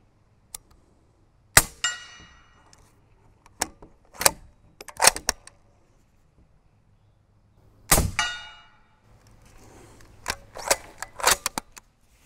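Subsonic 8.6 Creedmoor rifle shots firing 285-grain copper bullets at a range, several sharp isolated cracks spaced apart with ringing tails, some followed by metallic clangs from steel targets, heard without talk.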